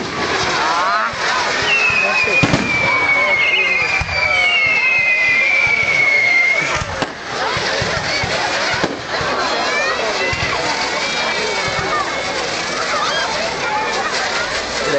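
Fireworks at a Melbourne display crackle and hiss steadily, with a couple of bright rising whistles early on, beneath constant crowd chatter and nearby voices.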